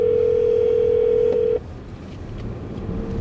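A loud, steady telephone dial tone hums for about a second and a half, then cuts off abruptly, leaving a low background rumble.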